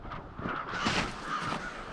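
A congregation of crows by a snowy creek gives harsh, overlapping caws, several calls in a loose sequence from a moderate distance, with no talk.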